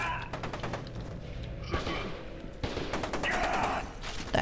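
Rapid gunfire in the video game F.E.A.R. 2, repeated bursts of automatic shots and a firefight clattering at moderate loudness, with no talking.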